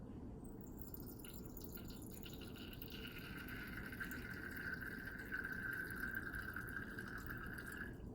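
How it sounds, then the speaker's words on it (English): Base liquid drains from a laboratory burette into a waste beaker, a faint, steady trickle with a thin rising ringing tone as the beaker fills, heard close in a quiet room. "And allow that base to run into your waste beaker."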